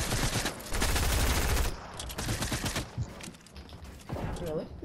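Rapid gunfire in the video game Fortnite, a loud sustained burst of shots followed by more scattered shots, with a voice talking over parts of it.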